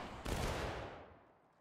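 A single massed rifle volley from the Civil War game War of Rights, fired by a line of soldiers, cracks out as one sharp loud blast that rolls away into a fading echo.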